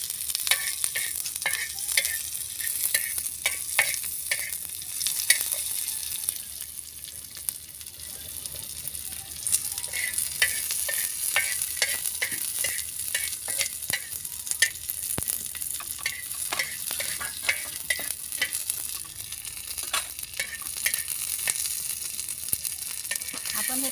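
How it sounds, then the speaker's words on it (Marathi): Onions roast in a pan for green-pea rice, giving a long continuous bright sizzle with frequent scraping and stirring clicks, near and steady throughout. "आपण हे कांदे भाजून घेतले आहे"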